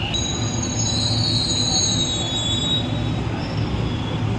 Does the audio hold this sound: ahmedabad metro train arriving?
yes